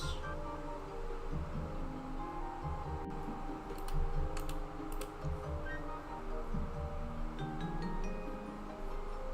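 Typing on a computer keyboard at a desk, soft scattered key clicks in irregular bursts, faint against a low steady room hum.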